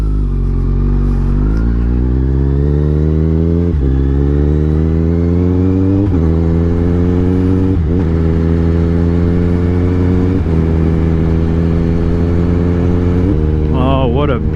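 Kawasaki Ninja 1000 ABS motorcycle ridden shortly after a cold start, its engine close and loud throughout, pulling up through several gears with short shifts and a steady rise in pitch between each change.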